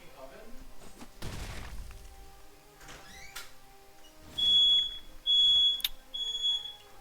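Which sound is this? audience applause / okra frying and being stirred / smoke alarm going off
smoke alarm going off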